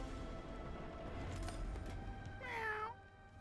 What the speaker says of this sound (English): Meow. Look at all the pets.